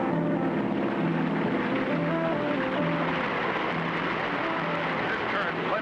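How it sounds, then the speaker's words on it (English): A seaplane engine runs continuously at steady throttle on a swift river above falls, a constant droning hum with faint tonal lines and rushing water noise, with a voice speaking over it. "We'll keep the engine running to force us against the current and hold us from going over the falls."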